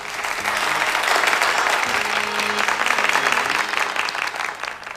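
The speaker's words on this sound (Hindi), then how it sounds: "आप जोरदार तालियां बजाइए" Loud, dense audience clapping at a live jagran, a sustained roar of many hands that holds steady throughout, with faint background tones beneath.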